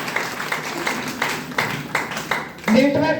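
Loud applause from a seminar crowd at a DXN network marketing event in Nepal, a dense wash of clapping that rises and swells, with voices mixed in.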